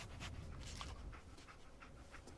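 The dog companion in the video game Fallout 4 pants quickly and rhythmically, a close breathy huffing that carries on for a couple of seconds without any voices over it.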